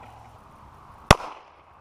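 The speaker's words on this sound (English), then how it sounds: "we're going to do some shooting" A single sharp crack from a .22 Magnum fired at an outdoor gun range, loud and close, with a short ringing tail after a quiet lead-in.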